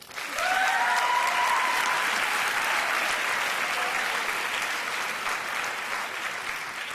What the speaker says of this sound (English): Please show our heroes some more love with a round of applause.